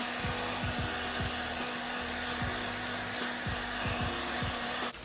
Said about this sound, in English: So I'm gonna grab my fan and we're just gonna dry my brows